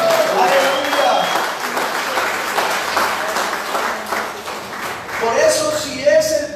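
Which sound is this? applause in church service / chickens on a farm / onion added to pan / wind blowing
applause in church service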